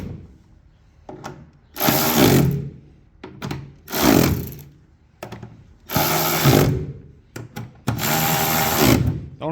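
Milwaukee battery-powered ratchet tightening plastic bolts on a classic John Deere corn planter, four loud motor bursts of about a second each, separated by quieter clicks and handling noises, close up with no talk.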